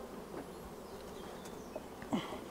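A honeybee colony hums at an open hive as frames are inspected, a faint, thin buzz of many bees with a few louder individual passes near the end.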